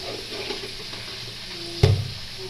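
Spices with turmeric, cumin and coriander powder frying in a pan for a banana-flower and taro-stolon dish, a steady soft sizzle with light stirring scrapes and one sharp clatter near the end, no talking.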